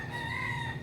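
A rooster crows outdoors in a rural Philippine yard, one sustained call that is faint and distant over steady background noise.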